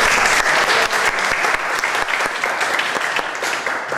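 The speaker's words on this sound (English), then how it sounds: "So I want to applaud you." A workshop group breaks into dense, steady applause, many hands clapping together continuously and fairly loud without any voices on top.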